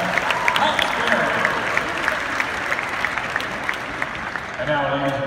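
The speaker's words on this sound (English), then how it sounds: "Please give Barry a round of applause for his dedication to the Lady Toppers program" An arena crowd at a Western Kentucky University Lady Toppers event applauds continuously, with dense clapping throughout and a voice on the public address faintly underneath.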